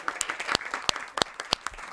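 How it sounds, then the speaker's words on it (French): At a TV talk show taping, a few people clap in separate, crisp, evenly spaced strikes over two seconds, sounding sparse and fairly close rather than like a full crowd. "Applaudissements pour cola sucrée."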